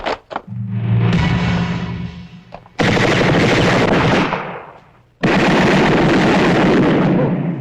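Loud bursts of gunfire in an old action movie, rapid volleys and shots in long sustained stretches separated by a brief lull, close and harsh.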